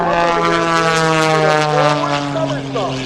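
Aerobatic propeller airplane flown by a display pilot at the Wings Over Houston air show, its engine drone holding steady and loud throughout with a shifting pitch, while a voice speaks over it.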